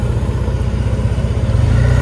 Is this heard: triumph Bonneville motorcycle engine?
yes